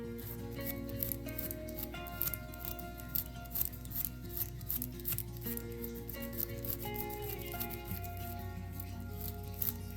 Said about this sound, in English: Get your razor and just start shaving like this.